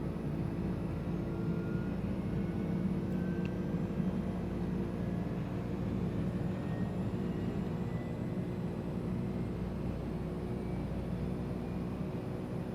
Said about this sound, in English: Man, the sounds on this plane.